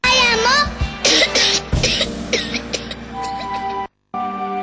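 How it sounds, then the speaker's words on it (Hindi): Several harsh coughs from a person in a Lifebuoy soap advertisement, loud and close, coming in bursts with a voice, backed by music, followed by a brief silence before the music picks up again. "अरे खांसी बुखार फिर से?"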